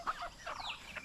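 Chickens on a rural farm plot near rice fields cluck softly in a few short, faint calls at some distance, with no talking.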